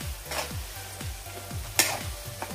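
Masala paste of roasted onion and tomato sizzling in oil for a crab curry, with a spoon scraping through it in a steady rhythm of strokes, close up and without speech.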